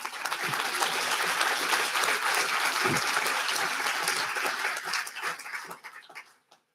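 An audience at a county update event gives a sustained round of applause, dense clapping that fades out toward the end.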